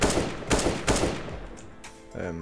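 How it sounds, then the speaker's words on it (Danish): Gunfire in Counter-Strike: Global Offensive during bot practice: three loud, sharp shots in quick succession over the first second, each leaving a short ringing tail, then quieter clatter and a brief tonal hum near the end. "Jeg prøver at skyde sådan her henad"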